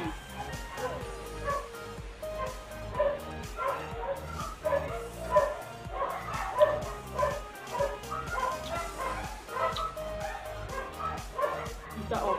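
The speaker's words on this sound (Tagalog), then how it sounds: "Mga kapitbahay sa maraming aso dito." Several dogs bark and yip repeatedly in the background, with some whimpering, a busy, noisy chorus that continues throughout.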